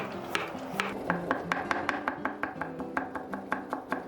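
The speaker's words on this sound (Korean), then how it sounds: "당근도 조금 다져주세요." A knife taps rapidly and steadily on a cutting board, mincing carrot with quick, even strokes and a low background hum.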